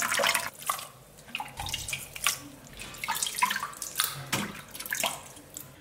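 Beef tripe being rinsed under a running kitchen tap, water splashing and gurgling steadily into the sink with irregular bursts as the tripe is handled, close and fairly loud, no talking.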